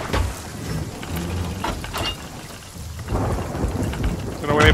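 Steady rain with rolling thunder in the video game Sea of Thieves, a dense wash of downpour broken by low rumbles and a louder crack near the end.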